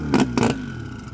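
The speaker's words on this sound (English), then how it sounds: "Let's check that cold start out" A boosted 1993 Mazda RX-7 rotary engine cold start: two short, loud, rough bursts about a quarter second apart, then a lower uneven idle that settles, heard up close.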